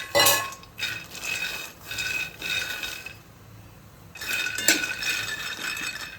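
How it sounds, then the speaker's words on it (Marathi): Dry peanuts roasting in a pan for chutney rattle and clatter against the metal in short bursts as they are stirred, with quieter gaps between the scrapes. "आता आपण हे शेंगदाणे भाजूया।"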